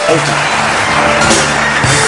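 Studio audience on a Hindi talk show applauding and cheering, a dense steady wash of clapping and crowd noise held at full loudness throughout, with voices mixed in.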